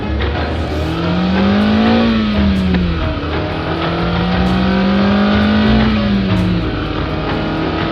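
Engine of a refreshed 2024 Mazda MX-5 Miata ND roadster driving, loud and close, with steady revving that rises and falls in two long sweeps, no talk over it.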